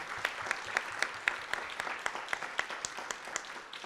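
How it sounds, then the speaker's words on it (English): An awards ceremony audience claps in a hall, a dense, moderately loud burst of applause with a steady, even patter of hands throughout. "Please give them a round of applause"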